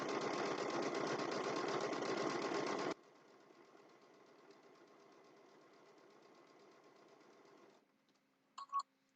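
A sewing machine stitches quilt block fabric pieces in a fast, loud whirring run for about three seconds, then hums more quietly, followed by a couple of short clicks near the end.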